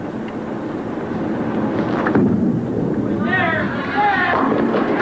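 A bowling ball rolls down the lane toward the pins in a 1989 women's championship match, a loud, steady low rumble lasting several seconds, with voices talking over it and arena noise rising toward the end.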